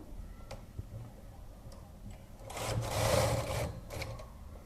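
A knitting machine knits a child's full sweater with a steady ticking clatter and a louder rasping sweep as the carriage slides across the bed.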